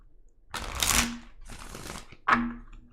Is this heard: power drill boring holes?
no